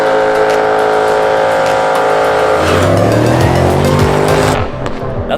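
A car revs hard and spins its tires in a smoky burnout at a morning car show in Squamish, a loud continuous engine roar with rising squeal that cuts off near the end.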